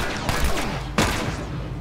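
Bursts of gunfire in The Last of Us, two sharp shot clusters close together amid a busy firefight.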